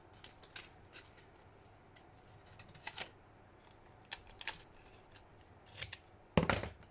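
Scissors snip through a junk journal page to trim a piece away, a handful of quiet scattered cuts and rustles ending in one sharper, louder snip, close with no voices.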